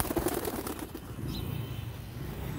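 Tumbler pigeon flapping its wings while held in a hand, a brief fluttery rustle at the start that settles into softer scuffling and faint background noise, with no talking.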